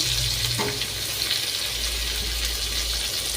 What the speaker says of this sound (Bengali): আর দেখো বলতে বলতে আমার কুমড়ো ভাজাও হয়ে গিয়েছে